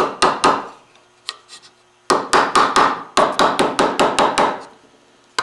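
A curly maple part of a wooden spice box is tapped into place, giving loud, close, sharp wooden knocks in rapid bursts of several strikes, separated by short pauses.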